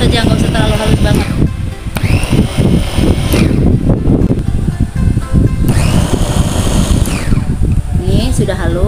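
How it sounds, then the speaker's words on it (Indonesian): An electric food chopper grinds spices for shrimp in Padang sauce. Its motor whirs loudly and roughly in bursts, and a person talks over it. "Kemudian kita chopper ya. Chopper ya sampai setengah halus saja, nggak usah terlalu halus banget."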